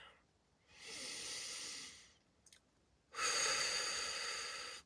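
Two slow, deliberate breaths, a long airy inhale followed after a short pause by a louder sustained exhale, close and alone with a quick sniff between them.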